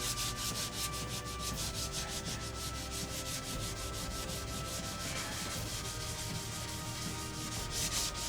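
A sanding block is drawn in steady, rhythmic back-and-forth strokes over the rough finish on the fuselage of a Top Flite P40E Warhawk model airplane. The rasping is close and continuous, with no voices.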